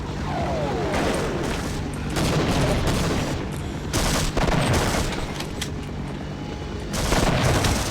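Loud booming blasts and gunfire in the Half-Life video game, including a grenade explosion, heavy overlapping bursts of combat noise filling the whole stretch with no pauses.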